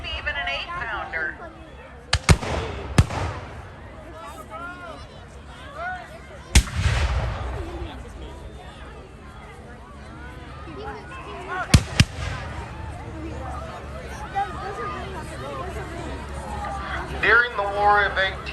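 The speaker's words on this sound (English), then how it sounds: "We have a variety of cannon firing here." Black-powder cannons at an 1812 reenactment, 3- and 6-pounders, fire in sharp booming blasts, some in quick pairs, spread across the stretch with a crowd murmuring and a voice talking between shots.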